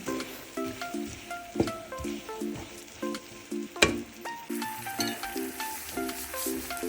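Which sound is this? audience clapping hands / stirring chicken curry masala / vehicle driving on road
stirring chicken curry masala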